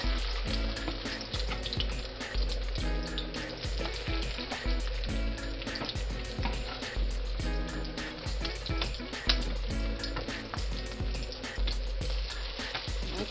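Salmon croquette patties fry in about three tablespoons of oil in a skillet, a steady loud sizzle with bubbling crackle running unbroken throughout, with no voices.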